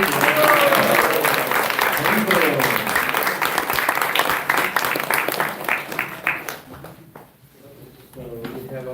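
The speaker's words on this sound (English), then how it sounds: "So let's give a big round of applause for Adigadhar." A temple audience at a Sunday feast lecture gives a big round of applause, loud irregular clapping with voices mixed in that thins and dies away near the end.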